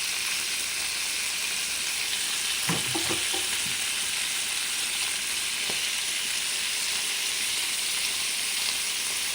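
Sardine roe frying in ghee in a pan, with a steady, bright sizzle throughout and a few soft clatters as the roe is placed in, close up and with no voices.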